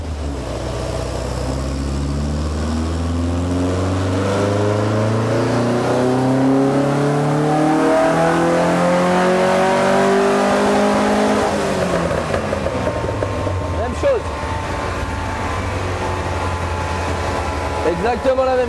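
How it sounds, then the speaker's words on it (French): A car engine revs in a long climbing run, then drops back with sharp popping backfires near the end, loud and close with steady engine drone throughout. "Non, c'est une pétarade."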